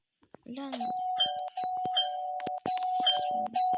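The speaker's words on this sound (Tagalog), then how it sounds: "maraming nagdo-doorbell" A doorbell chime rings several times in steady tones while a person talks over it nearby.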